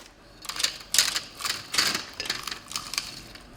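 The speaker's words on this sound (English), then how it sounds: "we're just going to pour those cornflakes on top" Dry cornflakes pour onto a baking-paper-lined tray in a few rattling, crackly bursts, close and fairly crisp, with no voices.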